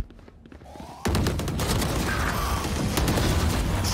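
Dense gunfire in the Valorant VCT 2021 Korea Master match between NUTURN and APEX erupts suddenly after a quieter opening second, then runs on as a loud, continuous barrage of shots and impacts.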